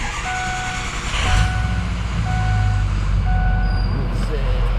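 A 2005 Ford F250 diesel 4x4 truck engine fires up inside a garage and settles into a loud, deep, rumbling idle, with repeated high beeps sounding over it.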